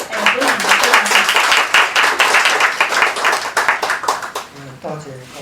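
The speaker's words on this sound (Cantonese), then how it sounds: "就請大家以熱烈嘅掌聲咧去歡迎周教授" An audience gives a warm round of applause to welcome a professor onto the stage at a lecture, dense steady clapping throughout with a few voices mixed in, thinning toward the end.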